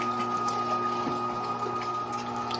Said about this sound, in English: Turn the grinder on, start adding the meat in